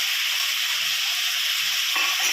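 Ginger garlic paste frying in a pan for kadai chicken, a steady close sizzle with a brief stir near the end.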